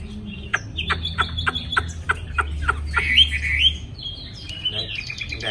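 A pet bird in a cage, just brought to a new home, gives a run of rapid sharp chirps, then a couple of louder squawk-like calls and softer twitters, heard close against a low background hum.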